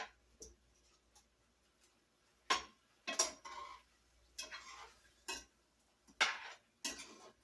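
A spoon stirs food in a single pot with wine added: scattered, quiet scraping and clinking strokes in irregular bursts, close by, with no talking.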